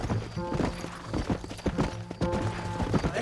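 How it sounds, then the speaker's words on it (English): Horse hooves clop rapidly in a galloping rhythm, fairly close, with sharp repeated thuds over a busy background, in the video game Red Dead Redemption. "Mount your horse!"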